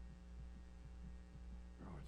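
A fast heartbeat sound effect from a She-Hulk episode: quick, evenly spaced low thumps pulsing over a constant electrical-sounding hum.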